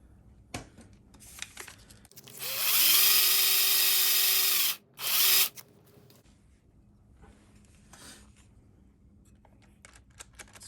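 Power drill spinning a cork as it is sanded down to fit an oil bottle, a steady whine rising for about two seconds, then a brief second burst, with quiet handling noise before and after.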